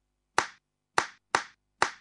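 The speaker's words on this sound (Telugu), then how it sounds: "చప్పట్లు కొట్టేంత ఇప్పుడు ఏం జరిగిందని?" A single person claps sharply four times at uneven intervals, each clap crisp and close with a short decay, in an otherwise quiet indoor scene.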